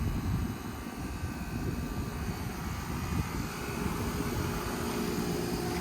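A Bryant Aero Quiet air conditioner's new scroll compressor runs outdoors as a steady, broad roar with a low rumble, continuous and fairly close, with no voices.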